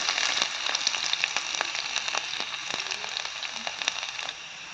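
Ginger and garlic frying in hot oil for a Kerala banana buttermilk curry, giving a continuous close sizzle with a dense spatter of sharp crackles and pops throughout.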